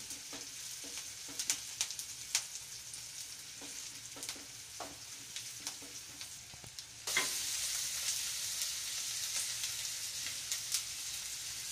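Peanuts stirred into a sizzling tempering of oil and asafoetida in a pan, a steady soft frying hiss with scattered spatula scrapes, the sizzle growing louder and denser about two-thirds of the way through.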